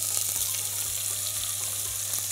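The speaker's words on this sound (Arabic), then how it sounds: "وهنشوح بقى الفلفل بتاعنا" Chopped peppers sautéing in a little hot oil, giving a steady close sizzle and crackle with faint stirring and no talking.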